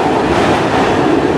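Norfolk Southern freight train cars rolling past close by, a loud continuous rumble and rattle of wheels on rails with steady clatter and no voices.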